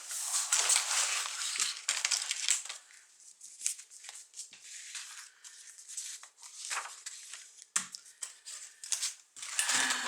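A craft knife slicing through paper on a cutting mat, a series of close, crisp scratchy strokes and clicks in irregular bursts, with no speech.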